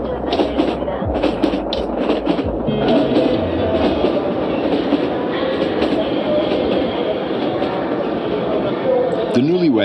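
Rattling, rumbling ride aboard a 1990s Korean passenger train bound for Busan, a steady broadband rumble with rhythmic clatter throughout, loud and close, with voices talking over it.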